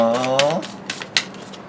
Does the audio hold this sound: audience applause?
no